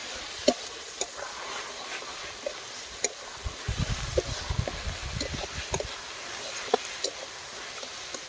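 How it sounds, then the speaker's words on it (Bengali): Fried soybeans get stir-fried with eggs and spices in a pan: a soft, quiet sizzle runs underneath while a spatula scrapes and taps at irregular intervals, with a brief burst of scraping in the middle. "সয়াবিনগুলো ডিমের সাথে ভালো করে কষিয়ে নিয়েছি।"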